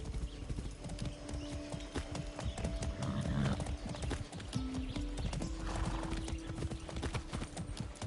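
Steady clip-clop of horse hooves in the video game Far Cry 6 trots along at a quick, even rhythm, with low rumbling and scattered noise around it; no talking.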